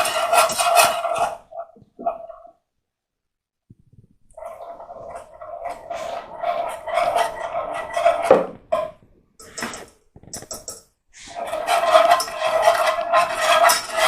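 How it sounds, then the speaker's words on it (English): A whisk or spoon scrapes and clinks against a pan as 160 ml of milk is gradually worked into a roux of 15 g butter and 15 g flour, in bursts separated by short pauses, close and fairly loud. "Just gradually mix that round, little by little."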